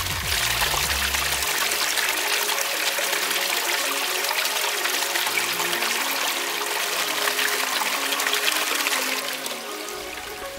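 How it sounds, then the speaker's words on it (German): A pool sand filter pump (TIP SFP 180) backwashing, pushing water out into a drain: a loud, steady rushing gush that runs for about ten seconds, then drops and thins at the end as the pump stops. "Pumpe einschalten."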